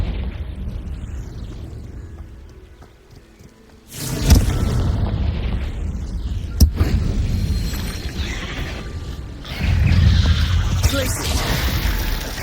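Confringo spell blasts in Hogwarts Legacy, loud booming explosions bursting in at a few points over a rumbling game backdrop, with a voice talking alongside.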